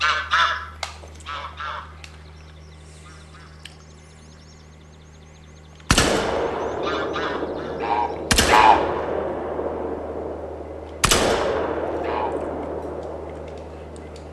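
Three loud, sharp gunshots ring out roughly 2.5 seconds apart while goose hunting in Salzwiesen Park in The Hunter: Call of the Wild, the first two close together and the third after a pause, over a quiet low hum.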